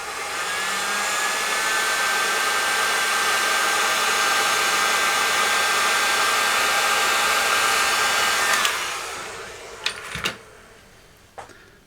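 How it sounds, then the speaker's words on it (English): A heat gun blows hot air in a steady, loud broadband rush while shrinking sleeving during work on an EAR 8-channel valve mixer, running continuously for about eight seconds before cutting off, followed by a few faint clicks and handling noises. "Trusty old heat gun."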